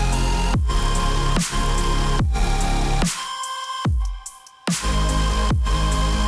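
Supersaw synth chords with an added mono layer, programmed in FL Studio, hit as loud rhythmic stabs in a steady pulse, briefly thinning to a sustained tail before the chords return.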